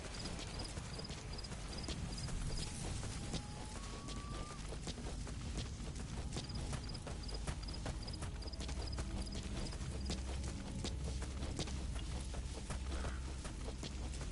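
Horse hooves gallop in Metal Gear Solid 5, a quick steady clip-clop beat that runs the whole way at moderate loudness over constant game background noise, with a few brief tones.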